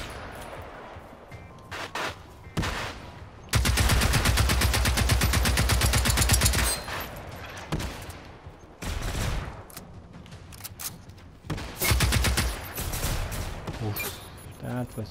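Rapid bursts of automatic gunfire aimed at hostile machines in Generation Zero, several long sustained volleys broken by shorter bursts and single shots, loud and close, with someone talking between them.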